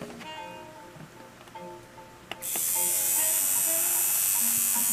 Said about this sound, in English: We now have a little motor going.